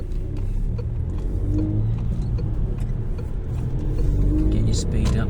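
A car pulls out and accelerates to join a 30 mph road, its engine a steady low rumble from inside the cabin that builds slightly toward the end, with a voice talking over it.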